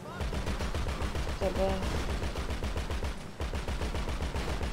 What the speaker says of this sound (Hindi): चलो तब तक मैं फायरिंग कर रहा हूँ